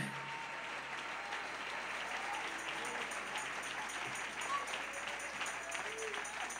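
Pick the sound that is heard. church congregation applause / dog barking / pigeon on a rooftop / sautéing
church congregation applause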